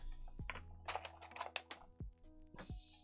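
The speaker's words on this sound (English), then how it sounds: "put these keycaps on the board" Keycaps are pressed onto a Saturn 60 keyboard kit at close range, giving a quiet series of plastic clicks and clacks in an uneven rhythm, some in quick clusters, with no talking over them.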